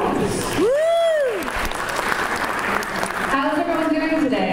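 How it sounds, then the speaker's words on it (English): An audience at a Liberty Science Center wolf dog show applauds the animal handlers from a farm with steady, fairly loud clapping, while a rising and falling whoop cuts through early on and voices carry on underneath. "Let's give them a round of applause."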